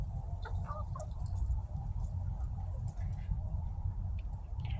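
Chickens cluck and murmur faintly in the background over a low, steady rumble, with occasional soft clucks rising above it.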